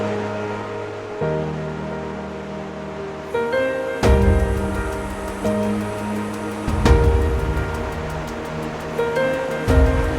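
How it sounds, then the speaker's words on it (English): Rushing water from a waterfall in Nigeria forms a steady broadband roar throughout, with tonal music layered over it and swelling at intervals. "Welcome to the most beautiful waterfall in Nigeria."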